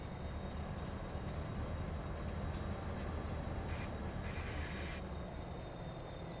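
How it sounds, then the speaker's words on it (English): A train backs up slowly in Farming Simulator 22, a continuous low rail rumble with brief high metallic wheel squeals partway through, heard alone without speech. "We need to back up the train here."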